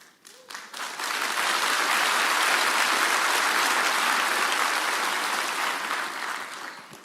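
An audience at a talk by Gabor Maté bursts into applause after a few scattered claps, swelling into a full, steady wash of clapping that holds for several seconds and then slowly thins out.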